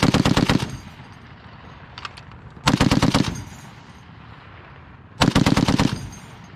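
A US Army M2 .50 caliber machine gun fires three short, loud bursts of rapid shots, separated by quiet pauses.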